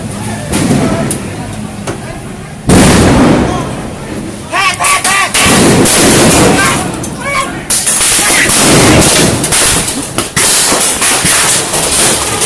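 Gunfire at a nighttime street protest in Din Daeng, Bangkok, as riot police move in on demonstrators: loud, sharp reports and bursts ring out through crowd noise, with people shouting nearby.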